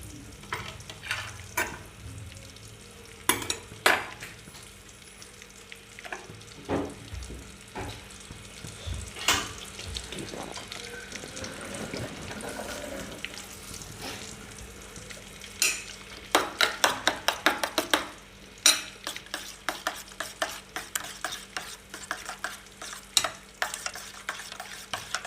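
An egg omelette mixture with salt and coconut oil is stirred in a hot pan, giving repeated scraping and clicking strokes in uneven bursts over a low, steady sizzle close to the microphone.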